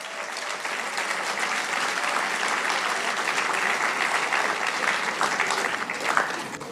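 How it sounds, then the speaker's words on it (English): Steady applause from a crowd at a high school sports awards ceremony, a dense, even patter of clapping that holds at a constant level for several seconds without voices over it. "round of applause for our freshmen and sophomores"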